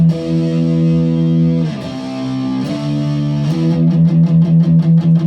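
Loud distorted electric guitar rings out sustained power chords that shift pitch, then breaks into fast, steady down-strums.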